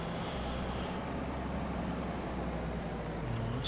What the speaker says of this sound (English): I do love this tractor.